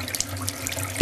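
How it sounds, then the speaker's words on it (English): A cold water tap runs into a bathtub with a good flow, a steady splashing hiss of water heard close by and alone, with a faint thud at the very end. "I'm going to turn on the cold water tap. Get a good flow."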